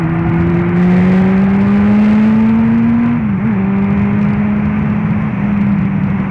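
Honda Hornet 600 motorcycle riding along the road, its engine holding a steady droning note with a brief dip in pitch midway, wrapped in loud, constant wind roar.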